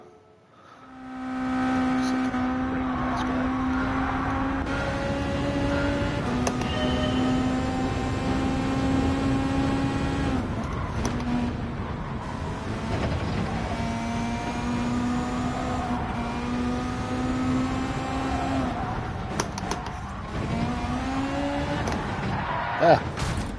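A Gran Turismo 7 race car engine at Road Atlanta drones and whines continuously, its pitch shifting up and down with gear changes, a brief sharp blip near the end.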